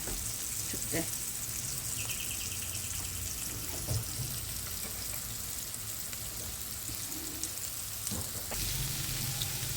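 Anchovies fry in a pan on a home stove, giving a steady, close hiss and crackle of hot oil that runs throughout, with occasional clinks and soft voices.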